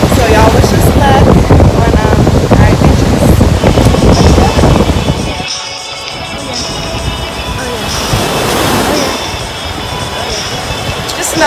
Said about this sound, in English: Another day on the beach